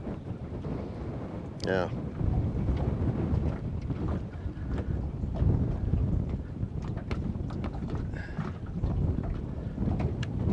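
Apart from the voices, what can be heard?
wind blowing outdoors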